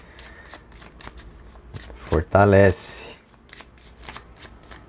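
A Gypsy tarot card deck is shuffled in quick bursts of crisp, riffling card flutters, close and clear, with someone speaking Portuguese before and around the shuffling.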